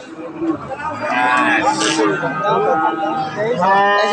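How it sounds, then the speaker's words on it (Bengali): A crossbreed bull lows at a busy cattle market, its calls standing out over steady crowd chatter and nearby voices throughout. "এটা একটা ক্রস জাতের সার গরু"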